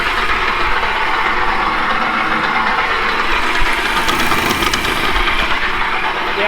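A worn center gearbox on an old irrigation system runs with a steady, loud mechanical churning drone and faint knocking, continuous and close throughout.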